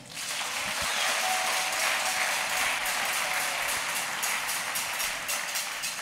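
A church congregation applauds during a Sunday sermon, a dense, steady wash of clapping that holds loud and even for the whole stretch with no talk over it.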